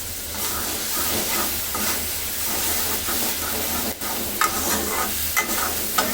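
Dried fish, garlic, chili and tomato paste fry in hot oil in a home kitchen, giving a loud, steady sizzle with stirring scrapes and a few sharp clinks of the spoon, no talk.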